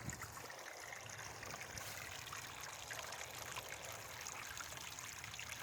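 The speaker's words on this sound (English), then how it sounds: "You can see the water coming out there." Water trickling out of a pond overflow during a snow melt, a steady close babbling flow that holds at a constant level throughout.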